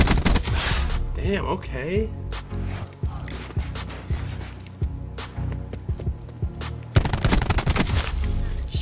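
Rapid bursts of gunfire in a shooter video game, dense and repeated across the span, mixed with game effects while a player talks over the shots.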